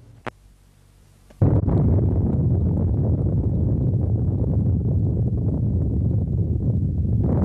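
A sudden loud blast erupts after a quiet opening, followed by a sustained heavy rumbling roar that continues steadily to the end, as explosions go off in Singapore harbour.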